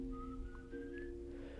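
A single drawn-out whistle, a thin steady tone that slides slightly in pitch, faint over a low background hum, evoking the El Silbón legend.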